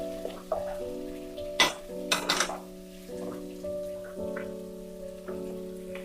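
Chopped onion, garlic, capsicum and spring onion fry over high heat in a pan, a soft, steady sizzle with a few louder stirring crackles, under sustained background music.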